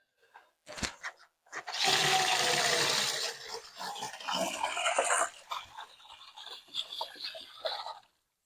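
Tap water gushing into a dog's water bowl, a steady broadband rush that swells loud for a few seconds, then tapers into softer splashes and dribbles as the bowl fills.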